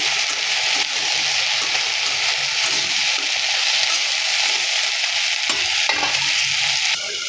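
Salted okra sizzles in a hot pan while a spoon stirs it, the frying hiss steady and close throughout, with a few soft scrapes and clacks of the utensil near the end.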